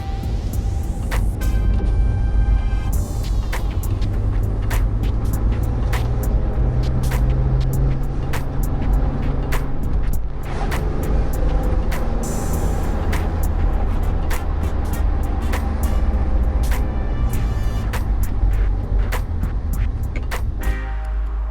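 A BMW E46 M3 convertible with low miles drives along, its engine note steady and loud throughout, with sharp clicks and brief bursts breaking through the continuous road and motor noise.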